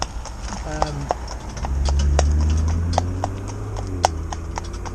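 Hooves of an older cob clip-clop at a steady walking rhythm under a rider, clear and close, while a low engine-like drone swells and fades in the background.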